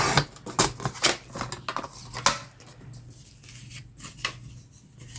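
Scissors cut through paper while trimming a summer-themed junk journal pocket tag, producing a quick series of crisp, close snips, then softer, scattered cutting sounds in a quiet room.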